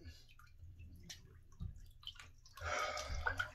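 Water moves and splashes in a bathtub, quiet at first with a few soft drips and swishes, then a louder stretch of sloshing and slapping water toward the end.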